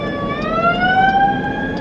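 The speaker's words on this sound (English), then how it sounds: "Oh, it's because there's a siren coming." A wailing emergency siren sweeps upward in pitch, loud and steady, with a low traffic rumble underneath.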